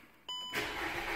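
A car engine that had been dropped cranks briefly after its fuel system is primed, then catches and fires into a loud, steady run. The sound is close, with no talking.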